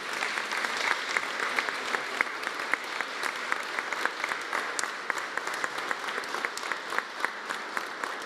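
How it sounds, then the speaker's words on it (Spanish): Audience applauds award-winning teachers at a morning presidential press conference, steady moderate clapping with distinct individual claps standing out, heard from some distance and continuing unbroken. "El reconocimiento de nuestro aplauso para todos los maestros galardonados."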